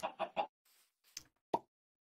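Minecraft chickens make short clucking sounds in a quick run of three, followed by a faint pop and two sharp plopping hits, with silence between.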